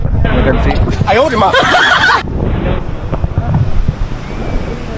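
Surf rolls onto Eco Beach on the Karnataka coast, a loud, continuous wash with heavy wind buffeting the microphone and faint voices in the background.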